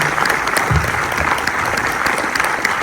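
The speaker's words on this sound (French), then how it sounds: "Je vais demander un énorme applaudissement pour Arthur Beaucaire et Laurence Valin." An audience at a film screening applauds two guests from the film Little Jaffna. The clapping is loud, dense and steady and fills the whole moment.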